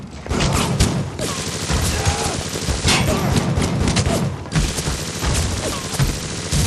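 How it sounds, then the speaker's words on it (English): Enemy machine gun fire in the shooter BioShock Remastered, loud and close, a sustained rattling barrage of rapid shots and impacts that barely lets up across the whole stretch. "He's got a machine gun."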